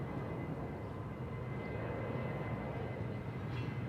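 An aircraft taxis toward a parking bay at Bangkok Suvarnabhumi Airport, its engines making a steady, loud, broadband roar that holds even from start to finish.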